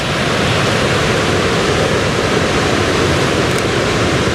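Ocean waves wash around coastal rocks at Broken Head at sunrise, a loud, dense, unbroken roar of surf and spray with no distinct breaks, heard alone.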